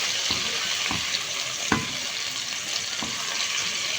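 Sliced bell peppers and garlic cloves fry in a pan with a steady broadband sizzle, broken by a few soft clinks and scrapes of stirring; no one speaks.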